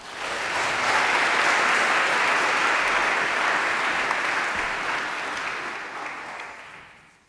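An audience at a lecture by Professor Robert Bartels in Syracuse claps steadily for several seconds. The applause holds at full strength, then fades out gradually.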